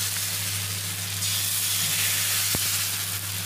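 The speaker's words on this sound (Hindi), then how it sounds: "और उसके बाद से डालेंगे हम ये उत्तपम का बैटर।" Semolina uttapam batter sizzles on a hot griddle greased with mustard oil, a steady close hiss with one brief click partway through.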